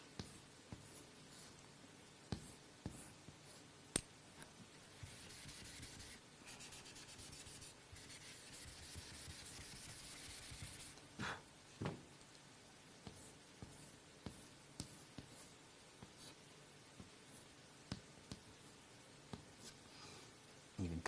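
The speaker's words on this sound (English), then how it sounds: "So I can take this cube and draw another cube on top." A cube is drawn on paper, then another stacked on top, in quiet, close scratchy strokes with soft rubbing and a few small taps between lines.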